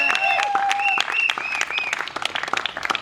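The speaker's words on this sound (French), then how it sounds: "On applaudit très fort." Loud, sustained applause at a French wedding ceremony, with dense clapping running the full three seconds and voices calling out over it.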